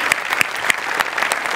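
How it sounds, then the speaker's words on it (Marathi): Audience applause at a live comedy show, a dense burst of clapping with sharp individual claps standing out near the front, loud and continuous for the whole moment, with no talking over it. "जोरदार टाळ्या"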